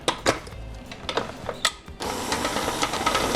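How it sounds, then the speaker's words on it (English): Electric stand mixer whirring as it beats frosting, with several clicks and knocks of handling first, then a steady motor hum starting partway and running to the end. "Now we're going to put this back on the mixer stand"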